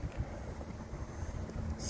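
Cold wind blows outdoors against the microphone, a low, gusty rumble that buffets steadily and stays close and fairly quiet.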